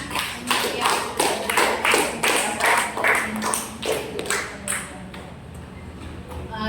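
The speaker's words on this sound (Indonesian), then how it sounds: "kita beri tepuk tangan." Students in a classroom clap together in a lively burst of rhythmic, fairly loud applause that tapers off toward the end.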